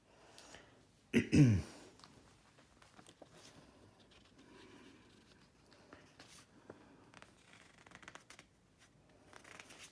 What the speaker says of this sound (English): for the second day, you're going to deal out the cards again.